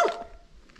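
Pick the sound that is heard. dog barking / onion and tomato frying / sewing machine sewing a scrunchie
dog barking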